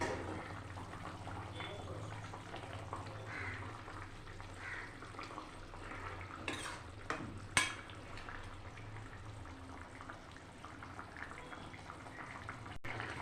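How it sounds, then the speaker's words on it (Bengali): Rohu fish curry with new winter potatoes and cauliflower simmers and bubbles in a pot, giving a steady hiss with a few brief clinks partway through. "মাছ দিয়ে বেশ কিছুক্ষণ ফুটিয়ে নেব।"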